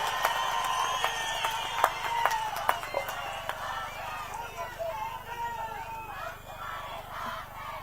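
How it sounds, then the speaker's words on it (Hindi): A crowd at a BJP election rally in Kishtwar, Jammu and Kashmir, claps and cheers, loudest at first and then fading under a speaker's amplified voice. "सगुन परिवार के लिए जोर से ताली बजाइए।"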